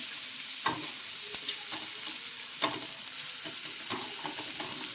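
Onion sizzles in about two and a half ladles of hot oil for egg bhurji, a steady fry hiss broken by occasional sharp scrapes and taps of a spoon stirring against the pan. No voices.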